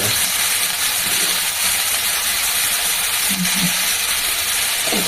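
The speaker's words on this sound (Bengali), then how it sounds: "ছোলাও দিয়ে দিচ্ছি আর লবণ হলুদটা দিয়ে দিই" Soaked chickpeas frying in a pan with salt and turmeric give off a steady, loud hiss of sizzling oil close up, with faint stirring noises near the end.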